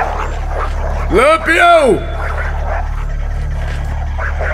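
A single dog gives a loud, close bark-yelp with a rising and falling pitch, right alongside someone shouting over a steady background hum.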